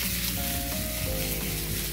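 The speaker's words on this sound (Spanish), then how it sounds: "Salteamos la cebollita acá, que quede bien sabrosa" Onion sautés in hot oil, giving a loud, dense, continuous sizzle close up that never lets up, with a faint hum running beneath it and no talking.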